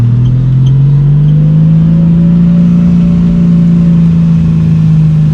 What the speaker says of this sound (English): That thing sounds so good.